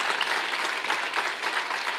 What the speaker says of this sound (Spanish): den un aplauso fuerte a nuestro Señor Jesucristo